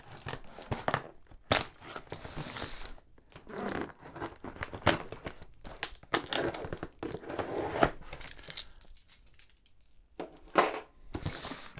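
Keys working open a package's plastic and cardboard, giving a run of close, irregular crinkling, tearing and scraping bursts with short pauses, no voices.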